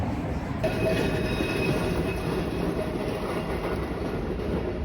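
A train passing at a Milan rail setting, a steady loud rumble of wheels on track with faint high squealing tones, continuous and close throughout, with no talking.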